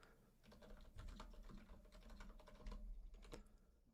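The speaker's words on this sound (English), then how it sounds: "Are you noticing how quiet this keyboard is comparatively speaking to my other keyboard?" Quiet computer keyboard typing, a steady run of soft, muffled keystrokes heard close up with no talking.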